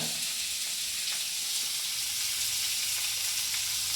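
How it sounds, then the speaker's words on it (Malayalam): Sliced onions sizzle and fry in a hot pan, a steady, close, bright hiss holding evenly throughout with no talking. "സ്ലൈസ് ചെയ്ത് വെച്ച ഒനിയൻ ഇതിലേക്ക് ആദ്യം ഇടുന്നു."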